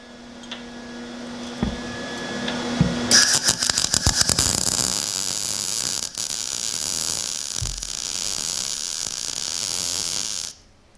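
A welder tacks and runs beads on 14 gauge sheet metal, sending out a burst of sharp, rapid crackles followed by a long, loud steady buzzing hiss that stops abruptly at the end.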